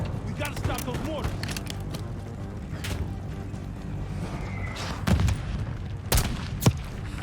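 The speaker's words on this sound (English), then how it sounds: "Just one mortar team left. We gotta stop those mortars." Mortar blasts and gunfire in Call of Duty Black Ops 6, with sharp booms and scattered shots over a busy battle bed, under voices talking.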